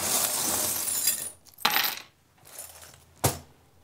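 Small charms dropped for a tarot-style reading clatter onto a surface in three separate bursts of tinkling metallic rattles, with short quiet gaps between them and no talking.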